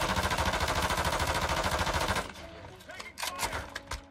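Rapid automatic gunfire in a multiplayer shooter video game, a fast loud burst of shots for about two seconds, then sparse scattered shots and game sounds.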